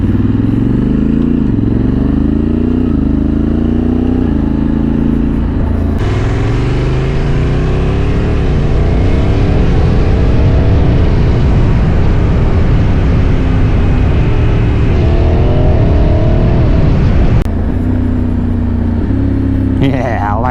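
A Honda Africa Twin motorcycle revs hard up close in repeated blips that rise and fall, then holds a loud sustained roar before dropping back to a rumbling idle, with wind noise throughout.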